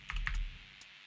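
Brief burst of keystrokes on a computer keyboard, a few quick close clicks followed by one lone tap, quiet and isolated.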